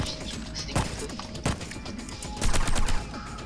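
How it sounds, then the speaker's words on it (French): Gunshots from the game Hitman: Blood Money, with several sharp cracks spaced through the clip and a short rapid burst near the end over a busy in-game background. "Les coups de feu sont magnifiques."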